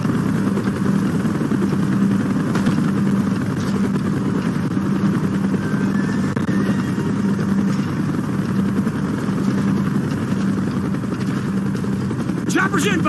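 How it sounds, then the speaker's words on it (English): A helicopter in Call of Duty: Black Ops gives a steady droning rotor and engine rumble with a low hum that holds a constant level throughout, and a brief sharp burst comes near the end. "Chopper's inbound!"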